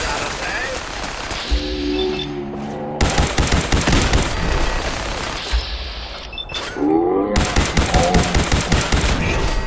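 Bursts of rapid automatic gunfire in Fallout 4, dense rattling volleys in two long stretches, with a voice talking over the shooting.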